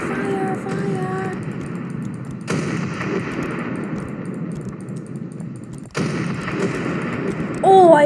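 Ship guns fire from an ocean liner used as a battleship in Ship Crash Physics: a few sharp, heavy blasts spaced seconds apart, each trailing into a low rumble.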